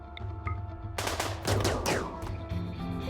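Guns go off while raiders are hunted down in the video game RimWorld: after a quiet start, a loud cluster of shots breaks out, followed by several more sharp reports spaced about half a second apart.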